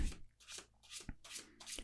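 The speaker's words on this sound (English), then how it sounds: "I'll keep shuffling. We'll just shuffle a few times" Tarot cards are shuffled by hand in several quick riffling bursts, close and crisp, separated by short pauses.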